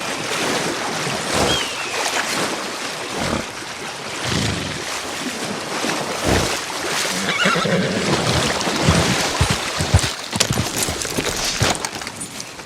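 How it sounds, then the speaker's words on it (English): In a Western free-roam video game, a horse swims through water at night, loud whinnies rising over continuous splashing and water wash, with a few sharp neighs standing out. "the horse is happy to go for a dip"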